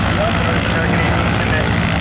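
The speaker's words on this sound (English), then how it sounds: "A lot of aircraft taxiing out right now." Aircraft taxiing out at an air show, Wings Over Waukesha, including a Harvard trainer, give a loud, dense, continuous engine and propeller roar that stays steady and close.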